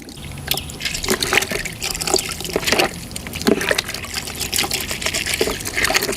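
Tap water running and splashing into a metal basin of ripe neem seeds, a close, loud, continuous gushing trickle with irregular splashes and no talking.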